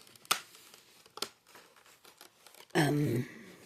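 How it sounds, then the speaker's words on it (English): Plastic packaging crinkles as items are pulled out of a box: a few sharp, close rustles and crackles spaced apart, followed by a short burst of louder tonal crinkling near the end. "Pardon the crinkling and stuff, because I'm trying to get these out of this box so I can show them to you."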